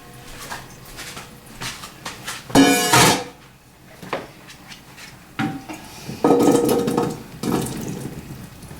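Grapes dumped into a saucepan, a few loud rattling, clattering pours against the pan amid scattered kitchen clinks and knocks nearby.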